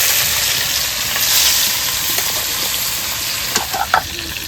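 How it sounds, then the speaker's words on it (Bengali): Fish frying in a pan, a steady close sizzle and crackle with a few louder pops near the end, no talking. "মাছগুলো ভেজে নেব প্রথমে"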